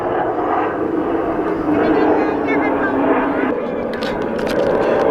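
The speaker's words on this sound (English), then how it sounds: "so you might hear an occasional aircraft" An aircraft flies over near an airbase, a steady, droning engine roar that holds at a fairly strong level for the whole stretch, with some talking in the background.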